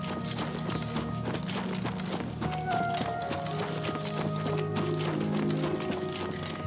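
Horse hooves clip-clop steadily while riding in the video game Oblivion Remastered, a rhythmic patter running the whole time under a dense bed of game music and ambience.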